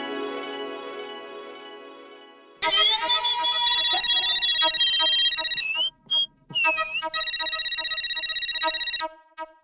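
A mobile phone ringtone plays loudly and steadily, a bright electronic melody repeating in bursts with brief gaps, before a call between two men is answered.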